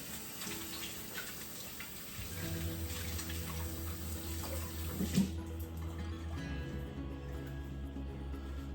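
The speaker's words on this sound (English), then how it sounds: "So I'm just gonna give my hands a quick wash again." A kitchen tap runs while hands are washed under it. The water streams steadily at low to moderate level with a faint splash near the middle, and there is no talk.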